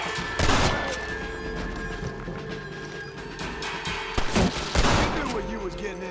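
Scattered gunshots in the western game Red Dead Redemption, a few loud cracks spaced apart over a steady ambient bed with faint background voices.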